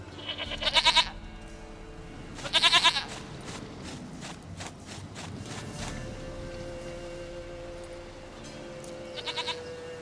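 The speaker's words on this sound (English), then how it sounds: "Goat of mine, dearest, sweetest goat." Goat bleats from The Witcher 3: Wild Hunt, two loud wavering bleats close together near the start and a third later, with soft footsteps and ambient game sounds between them.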